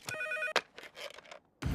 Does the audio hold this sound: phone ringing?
yes